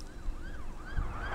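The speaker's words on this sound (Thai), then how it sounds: "ทำไมต้องรถพยาบาล" A wailing ambulance siren from a Friday Night Funkin' mod rises and falls in steady sweeping cycles, fairly loud over a low rumbling game backdrop, with no voices.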